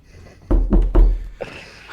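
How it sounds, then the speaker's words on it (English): Three heavy knocks on a wall, evenly spaced and close, dull thuds followed by a fainter fourth tap, with no voices. "don't threaten to knock on my goddamn wall"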